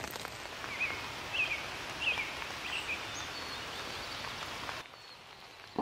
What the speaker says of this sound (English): It's been raining all morning